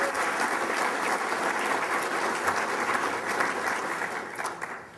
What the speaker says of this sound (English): let's give the Torrance Chamber a round of applause